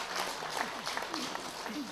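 A church congregation clapping during a Korean Christmas sermon, a short burst of scattered applause from the pews with a voice speaking over it.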